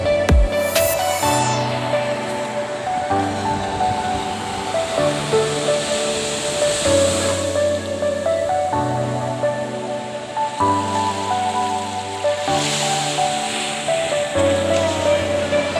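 Sea surf washing onto the shore at sunset in Alimanguan, San Vicente, Palawan, a soft rolling wash of water swelling and easing, with a steady musical tone running beneath it throughout.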